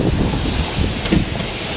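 Strong wind roars steadily through a street in Cleveland during a November windstorm, a loud, continuous broadband rush with gusty swells and no voices.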